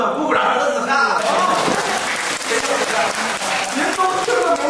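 Audience applause fills a Deyun She crosstalk evening show in Nanjing: dense, sustained clapping from a crowd with a voice speaking over it throughout.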